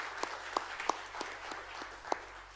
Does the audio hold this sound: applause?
yes